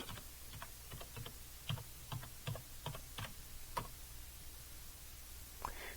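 Keys on a computer keyboard are pressed in a quick, irregular burst of soft clicks, typing a short password; quiet and close, with brief pauses between clusters of keystrokes.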